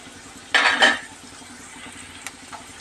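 Garlic frying in a pan is stirred in two loud, close scraping bursts of a utensil against metal, then a light sizzle with one or two faint clinks follows.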